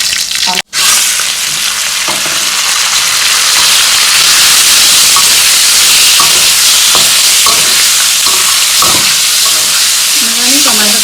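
Carrot noodles and chopped vegetables stir-fried in plenty of oil with pad thai sauce, a loud steady sizzle filling the whole stretch, with scattered scrapes and knocks of a utensil against the pan.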